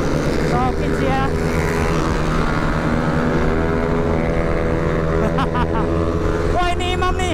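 A Yamaha Aerox 300cc scooter, still being broken in, runs at light throttle, giving a steady, droning, near engine hum with slight rises in pitch, while voices talk over it.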